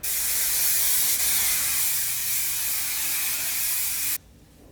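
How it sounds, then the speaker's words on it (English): A continuous close hiss of Aerogel hairspray sprayed onto curly hair lasts about four seconds, then cuts off abruptly. "I'm gonna take my Aerogel, shake it, spray it on all over."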